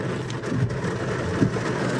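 Dense, heavy torrential rain drums steadily on a car roof in Poland, a constant loud wash of spattering with no voices.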